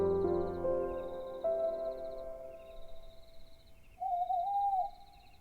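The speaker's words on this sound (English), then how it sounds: "Estoliana woke to the sound of an owl hooting." An owl hoots at night in a moonlit clearing: a few soft, drawn-out hoots over quiet, tonal background sounds, ending with a longer, wavering call.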